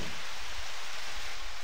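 Steady rain in the Harvest Moon farming video game, a constant bright hiss of falling water with no breaks, loud and close, with no voices.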